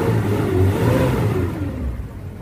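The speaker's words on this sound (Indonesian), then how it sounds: "Oke, kita review mesin. Engine on." A 1984 Suzuki Jimny 4x4 engine runs steadily and revs up then settles, a close, continuous mid-pitched drone with a rising and falling tone and no talking.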